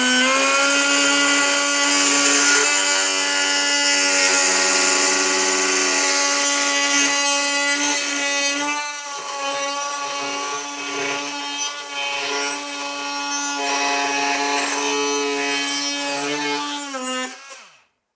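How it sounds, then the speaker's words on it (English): Kobalt 24v Gen 2 oscillating multi-tool with a stock blade cutting through a screw in pine, a loud steady buzzing whine that dips briefly midway, then resumes and cuts off at the end. "take our Gen 2 with a stock blade right out of the box and go ahead and try to cut off the screw"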